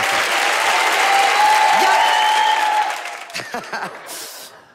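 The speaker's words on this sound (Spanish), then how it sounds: "Un aplauso para él, que se lo merece." A TV studio audience bursts into loud, sustained applause, steady for about three seconds before tapering off, with a brief shout at the start.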